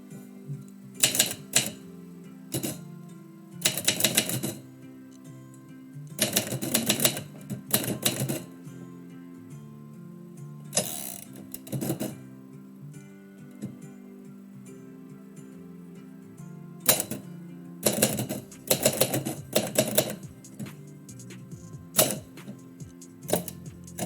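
Manual typewriter clattering out a poem at a live poetry session, in bursts of rapid key strikes separated by pauses, with a low resonant mechanical hum and the occasional bell-like ding and carriage movement.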